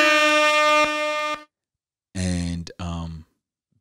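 A loud, sustained air horn blast lasting over a second, followed after a short silence by a second wavering honk that breaks off and resumes.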